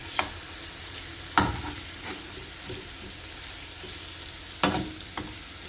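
Oil heats in a pan for fish pulao, giving a faint, steady sizzle under a few sharp metallic clinks and knocks of utensils, with no one talking.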